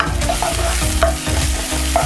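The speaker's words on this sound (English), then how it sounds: "I'm going to let the garlic also cook until it starts to turn brown." Garlic and browned onions sizzle in a pan while being stirred, a close, steady frying hiss broken by regular scraping strokes of the spoon, with no talking.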